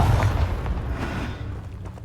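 A Confringo fire spell bursts in Hogwarts Legacy, a deep, close boom that rumbles and decays over about two seconds.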